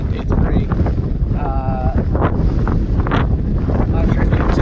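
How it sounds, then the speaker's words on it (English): Extremely strong wind blows across Badwater Basin in Death Valley National Park, a loud, constant gusting roar pummeling the microphone, with faint voice-like sounds underneath. "it is extremely windy"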